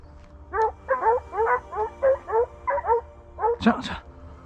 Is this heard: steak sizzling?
no